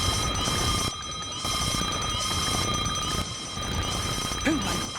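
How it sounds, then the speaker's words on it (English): A shrill earthquake alarm rings in long continuous bursts with short breaks, loud and close, over a busy noisy background. "My earthquake alarm!"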